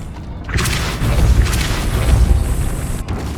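Depulso spell cast in the Hogwarts Legacy video game on PS5, a loud whooshing burst that kicks in abruptly and rumbles with a heavy low boom before cutting off near the end.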